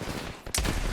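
A short burst of gunfire from the video game Apex Legends cracks in partway through the moment, loud and clustered, after a quieter stretch of background game noise.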